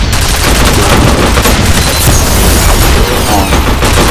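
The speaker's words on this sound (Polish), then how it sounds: "O, już pierwsza mina wybuchła i druga wybuchła." Dense, loud battle noise in the video game F.E.A.R. Perseus Mandate, with land mines exploding in heavy booming blasts and bursts of gunfire running continuously.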